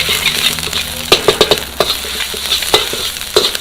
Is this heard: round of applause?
no